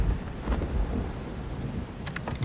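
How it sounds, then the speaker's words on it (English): Rain pours steadily in a thunderstorm from the video game Book of Hours, with low rumbling thunder rolling underneath and a few brighter crackles near the end, no talking. "We've got a storm raging."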